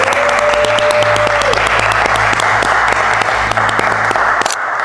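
Loud, close audience applause in a studio, a thick wash of many hands clapping continuously with a few sharp individual claps standing out, breaking off abruptly near the end.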